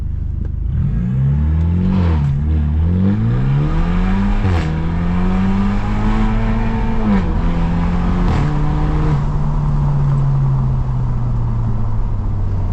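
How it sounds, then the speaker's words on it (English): A modified BMW F30 revs hard for a burnout, its loud engine note climbing and falling in repeated sweeps, with sharp pops and cracks breaking through the steady roar. "Let me see if I can get like a little burnout here."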